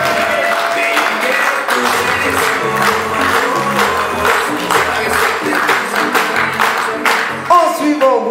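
Loud, steady audience applause at a holiday-village cabaret show in Mont-Dore, greeting a staff member named Tristan; dense clapping with crowd noise runs continuously throughout, close and full.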